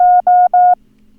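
Morse code for the number 2 sent at 18 words per minute comes through as a crisp, steady sidetone beep in three closely spaced bursts, loud and clean against silence.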